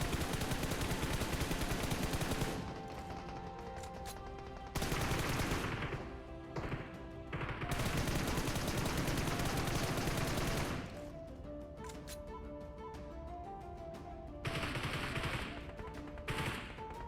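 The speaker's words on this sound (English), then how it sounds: "and shoot using pre-fire." Loud bursts of automatic gunfire from pre-fire shooting at a broken wall in PUBG Mobile come in several long volleys separated by short pauses, with no talking over them.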